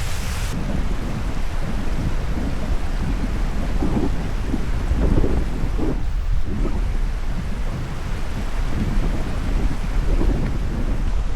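A waterfall on the hike to Easdale Tarn in the Lake District, swollen after a day of rain, gives a steady, close, broadband roar of rushing water that continues without a break and with no voices.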